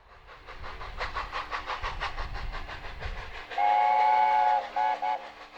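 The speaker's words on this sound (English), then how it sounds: "And this is the flagship of the London and North Eastern region, the A4 locomotive class." An LNER A4 class steam locomotive rolls along with rhythmic clanking of wagons, then its whistle sounds a loud sustained blast followed by two shorter ones, close by.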